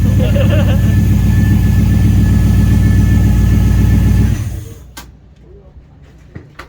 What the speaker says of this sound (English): And I hear a gear drive.